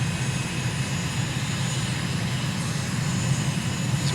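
Steady, loud drone of a simulated aircraft engine with the throttle raised during landing in Microsoft Flight Simulator, a constant broadband roar with a low rumbling core and no voices, holding even throughout.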